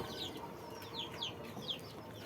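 Free-range desi chickens cluck softly and intermittently in a coop alongside pigeons, a few faint, short calls over steady low background noise, with no talking.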